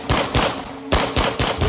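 Rapid bursts of gunfire, several sharp shots in two quick volleys, loud and close, used as a sound effect in a narrated Filipino aswang horror story.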